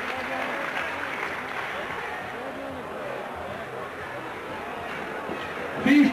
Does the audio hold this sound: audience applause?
yes